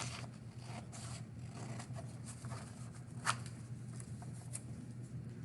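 Scissors snip out paper pieces for a craft house, giving soft, scattered clicks and scrapes at close range in a quiet room, with no voices.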